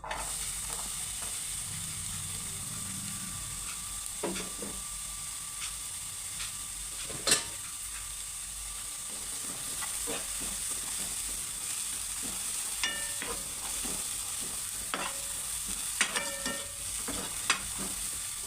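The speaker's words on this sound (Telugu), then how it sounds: "ఫస్ట్ అయితే ఆనియన్స్ వేయించుకుందాం" Onions dry-frying in a pan without oil, a soft continuous sizzle and hiss with occasional stirring clinks and scrapes of a spoon, fairly quiet and steady throughout.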